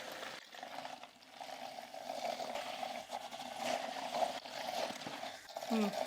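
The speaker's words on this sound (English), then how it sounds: "I'm gonna first dip the bristles into the water so that they're nice and wet" An electric makeup brush cleaner spins wet bristles in a small bowl of water, giving a steady motorized whir with splashing and sloshing water at moderate, close volume, while a person talks over it.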